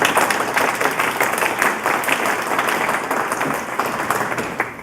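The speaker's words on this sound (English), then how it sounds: "Could we have a round of applause for those members?" An audience at an environmental summit gives a round of applause, and dense overlapping claps from many hands blend into a steady wash that fades slightly toward the end.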